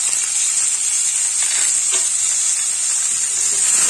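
Chopped vegetables for titor jhol go into a hot pot and are stirred, with a steady, even sizzle and hiss running loud and close throughout, broken only by a few faint stirring scrapes.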